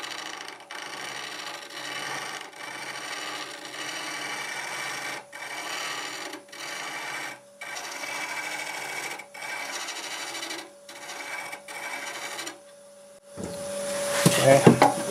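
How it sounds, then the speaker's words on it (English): A wood lathe turning at about 800 RPM while a 1/2-inch bowl gouge shear-scrapes the piece, giving a steady close scraping hiss broken by short regular pauses, then a brief louder clatter near the end. "1/2-inch bowl gouge and doing about 800 RPM, and I think I'll just shear scrape this."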